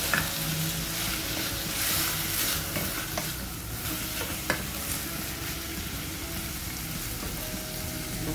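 Chicken pieces sizzling in a pan for a quick chicken stroganoff, a steady hiss of frying broken by scraping and clinks of a spoon stirring, close and alone.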